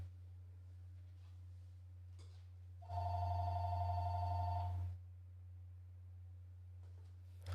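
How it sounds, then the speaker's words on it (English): A phone rings once with a steady electronic tone lasting about two seconds, over a low constant hum, then stops. "why is my phone ringing?"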